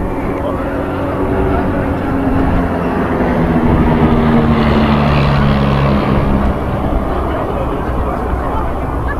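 A synchro pair of aerobatic aircraft roars past at an airshow as a loud, continuous engine drone whose pitch slowly drifts, with a commentator talking over it throughout.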